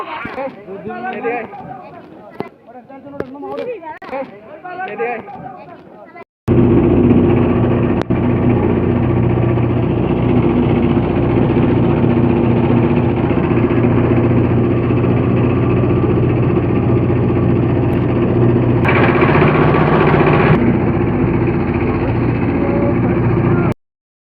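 A motorboat engine drones steady and loud on a river, starting abruptly after a few seconds of speech and running on without a break to the end.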